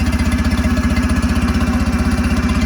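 A Mercury 9.9hp outboard engine running steadily, with a rapid, even chugging pulse close by and a constant mechanical rattle layered over it.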